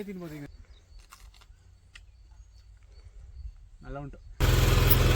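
After quiet talking, a tractor engine abruptly starts up loud and close, settling into a steady rumbling drone.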